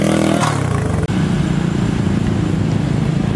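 Loud, close engine of a Yamaha Mio 200cc road race motorcycle, a brief blip at the start, then a steady, rough running note with a slight clatter and a momentary dropout.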